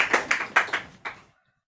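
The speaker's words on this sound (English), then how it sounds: "Massive round of applause for Phil Spillane," A small poetry-night audience gives a short burst of applause for a poet, about six quick, distinct claps that fade out within a second and a half, then silence.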